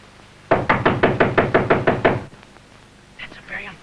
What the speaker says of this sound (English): That's a very unfriendly knock.